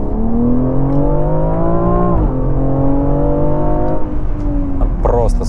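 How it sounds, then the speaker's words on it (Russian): A BMW X4 M F98 Competition petrol engine revs hard under acceleration, its rising drone climbing through gear changes, loud and close from inside the cabin, with a voice speaking over it. "Просто послушайте, как она классно взрывается."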